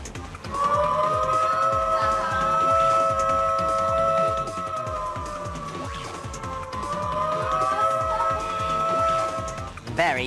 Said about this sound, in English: it was time for the air raid siren